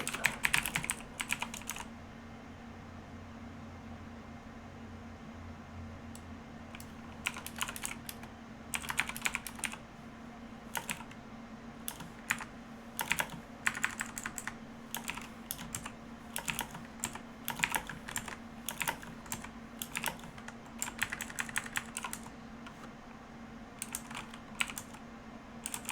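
Keys clatter on a computer keyboard in bursts of quick typing while score notes are kept for a Secret Hitler game tournament. The tapping is soft and close over a low steady hum, with short pauses between bursts.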